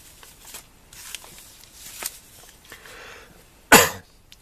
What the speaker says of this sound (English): See, I had to cough, I knew it.